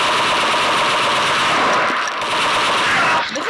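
Sustained automatic weapon fire in a video game, a dense continuous rattle of rapid shots running loud and steady for several seconds before briefly easing near the end.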